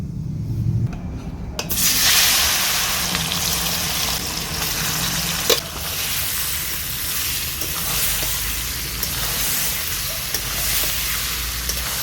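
Olives hit hot spiced oil for pickle with a sudden loud hiss, which then settles into a strong, steady sizzle with light stirring scrapes underneath.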